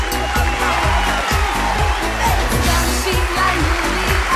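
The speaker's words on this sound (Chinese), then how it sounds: "12号毛毛老师，来，掌声有请" Studio audience on a Chinese dating show applauds steadily as a guest is welcomed on stage, the crowd noise sitting over a pulsing beat of entrance music throughout.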